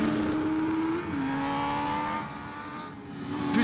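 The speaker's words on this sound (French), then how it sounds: "Allez Mathieu, on va augmenter notre vitesse." A car accelerating during a track drive, its engine note rising steadily in pitch, dipping briefly at a gear change, then climbing again, loud and close with no talk.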